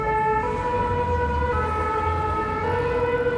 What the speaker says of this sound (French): Un peu de sirène, un peu de machin, ça fait les sirènes, les pimpons.